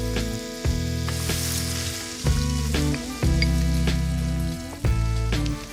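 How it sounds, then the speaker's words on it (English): Vegetables frying in a pan, with a loud close sizzle, strong steady humming tones and a few sharp clicks and knocks at intervals. "Fry the veg for around 7 minutes"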